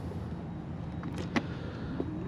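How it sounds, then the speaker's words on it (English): The electronic tailgate of a 2026 Mercedes-AMG GLE 53 Coupe powering open or shut, a soft motorized whir under a low background hum, marked by a brief mechanical click partway through and a faint latch sound near the end. "Electronic tailgate on this GLE."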